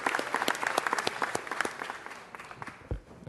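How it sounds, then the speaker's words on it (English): Applause from a city council meeting audience for the All-Stars team: dense clapping over a brief voice, thinning out into a few scattered claps. "Let's give them a round of applause"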